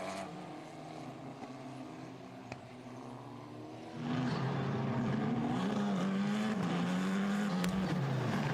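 Formula 4 race cars at Slovakia Ring roll onto the starting grid, their engines droning low and steady before swelling into a louder, closer roar that keeps rising and falling in pitch.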